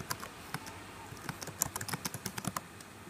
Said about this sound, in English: type in your command.